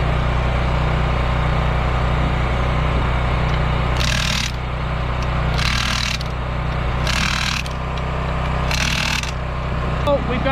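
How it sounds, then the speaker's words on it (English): An impact wrench tightens lug nuts on a vehicle's tires in four loud, rattling bursts of about a second each, separated by pauses, over a steady low hum. "I put the tighten these up, because it's really loud with the impact"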